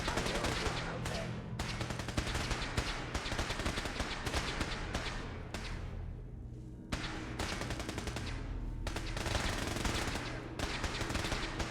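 Sustained automatic gunfire in a video game, dense bursts of rapid shots close and loud, with one brief lull midway before the firing resumes.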